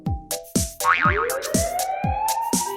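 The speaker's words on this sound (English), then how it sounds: "It's a siren, that's what it is." A toy-like fire truck siren wails up and down over repeated bouncy boing-style thumps, loud and close.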